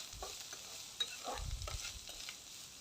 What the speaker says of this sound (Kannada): ನೋಡಿ, ಚೆನ್ನಾಗಿ ಫ್ರೈ ಮಾಡ್ಕೋಬೇಕು ಈ ಥರ ಕೆಂಪಗಾಗೋವರೆಗೂ.